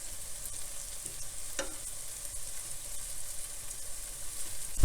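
Tofu pieces fry in a pan with a steady close sizzle, broken by a few soft taps and scrapes as they are turned over.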